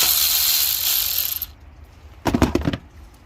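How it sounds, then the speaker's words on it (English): Ratchet clicking while a part comes off a Nissan Maxima 3.5 V6 during an alternator replacement: a long steady run of close, loud clicks, a pause, then a short second burst. "you could take this whole thing off and just use a regular ratchet"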